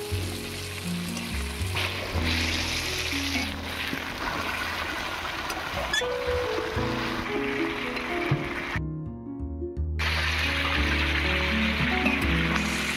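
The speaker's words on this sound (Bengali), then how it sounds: "এবারে পরিমাণ মতো জল দিয়ে দেবো।" Water poured into a hot pan of fried yam and potato sets off a loud, steady, close sizzle that continues throughout, with a brief drop in the middle before it resumes, and no talking.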